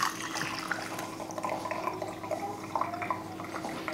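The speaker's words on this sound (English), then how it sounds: "So I'm gonna pretend this is done brewing, and what I'll do is I'll pour it in here." Brewed tea pours steadily into a carafe, a continuous liquid trickle and splash with some dripping, close and fairly loud throughout with no talk.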